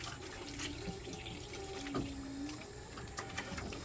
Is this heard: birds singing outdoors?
no